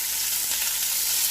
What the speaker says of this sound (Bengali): পেঁয়াজটাকে লাল লাল করে ভেজে নিতে হবে।